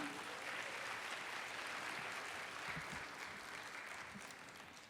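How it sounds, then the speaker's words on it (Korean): An audience at a church lay-training graduation ceremony applauds to welcome a speaker. The clapping is steady and full throughout and eases slightly toward the end. "큰 박수로 환영하겠습니다"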